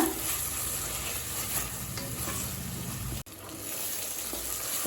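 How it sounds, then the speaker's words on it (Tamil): Steady sizzling as curd is sautéed in a hot pan for kuska biryani, with soft scraping and stirring, close by and fairly quiet, broken by a brief dropout near the end. "தயிர் சேர்த்துட்டு 1 நிமிஷம் வரைக்கும் நல்லா வதக்கியாச்சுங்க."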